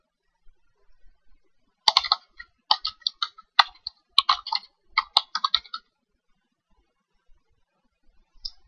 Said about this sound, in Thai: แล้วก็พิมพ์ตัวอักษรชุดแรกเข้าไปครับ